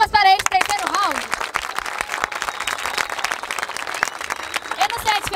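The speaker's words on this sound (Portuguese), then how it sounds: "salva de palmas para esse terceiro round." Crowd applause and cheering at a Brazilian rap battle final after the third round, a dense wash of clapping with shouts and voices mixed in throughout.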